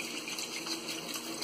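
Tap water runs steadily into a kitchen sink while food is washed, a soft, continuous hiss of flowing water at low volume, with no talking.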